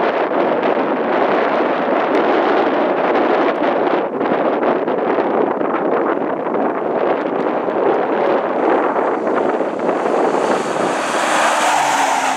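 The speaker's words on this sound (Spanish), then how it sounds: "Coches, prácticamente rueda a rueda." Rally cars race nearly wheel to wheel on the Caminos del Inca rally stage from Arequipa to Lima, with loud, continuous engine roar and wind buffeting that stays close and steady the whole time, and no one speaking.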